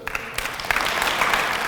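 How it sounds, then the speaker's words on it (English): An audience bursts into a round of applause for a prosecutor during a public speech: dense, steady clapping that holds fairly loud throughout, with no talking over it. "Give him a round of applause."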